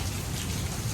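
Rain falls steadily in a rural Thai village, a dense close patter of drops that stays constant throughout, with no voices.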